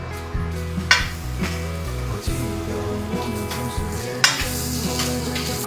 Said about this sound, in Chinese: 稍微炒一下